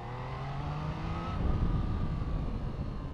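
A Triumph Tiger Sport 800 three-cylinder motorcycle accelerates in second gear, its engine note rising into a broad, rushing roar with wind noise, heard steadily from the rider's position.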